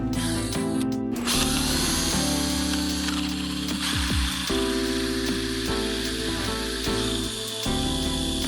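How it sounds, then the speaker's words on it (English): A power drill whines steadily as it bores holes through metal knife bolsters, its pitch shifting as the bit bites and eases, loud and close with no talking. "we're going to drill our holes through the bolsters"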